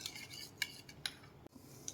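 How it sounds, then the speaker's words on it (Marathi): A spoon mixes a paste of coriander, salt, sugar, ginger-garlic paste and chili in a bowl, making faint, sparse clinks and scrapes with a few sharper taps. "हे मिक्स करून घ्या छानपैकी"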